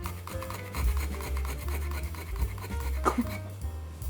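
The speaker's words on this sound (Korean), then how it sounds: "그다음에 생강 막 갈아." Fresh ginger is scraped over a kitchen grater in a steady run of close, rasping rubbing strokes, with a few louder scrapes standing out and no talking over it.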